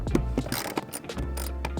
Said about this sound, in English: So now I'm just gonna take out the back bolts and then take the entire seat out.